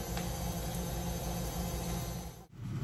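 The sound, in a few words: washing machine running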